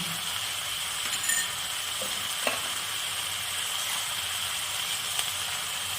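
Ginger paste, ground cumin and chili powder fry in a pan as a steady low hiss and sizzle, with a few faint clinks of a utensil against the pan.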